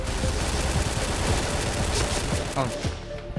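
AK-47 Elite rifle fire in the shooter game Point Blank, a dense run of rapid shots over continuous game noise, loud and steady throughout with no clear gaps between bursts.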